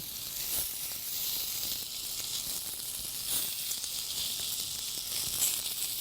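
Chicken shish kabobs sizzle steadily on low heat, a continuous bright hiss of frying with faint crackles and small pops, close and even throughout, with no one speaking.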